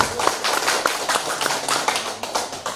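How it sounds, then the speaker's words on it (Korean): An audience claps together in a room after a call to applaud a proposed internet bank, many hands striking in dense overlapping taps that stay fairly steady and close for a few seconds. "멋있으면 박수 한번 치시죠."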